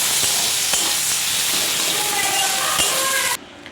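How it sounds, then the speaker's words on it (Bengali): Sliced onions fry for beresta in a wok of hot oil left from frying eggs, a steady loud sizzle filling the clip before cutting off abruptly near the end. "এই যে পেঁয়াজগুলো কাট করে রেখেছিলাম, এগুলো বেরেস্তা করে ফ্রাই করে নেব।"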